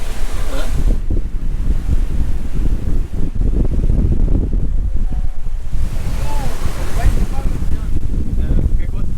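Loud, steady gusts of strong wind from astern roar across the microphone aboard a sailboat at sea, over a constant rush of water and surf, with no break from start to finish.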